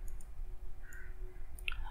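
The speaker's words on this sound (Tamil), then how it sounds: "ஸோ டெக்ஸ்ட் டூல், அதை அப்படியே கிளிக் பண்ணி" A single mouse click selects the text tool while working in After Effects; the click is sharp and close and sits over a quiet room background.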